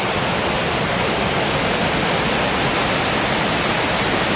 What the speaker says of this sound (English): So there's little, 3 separate little waterfalls right in this little area.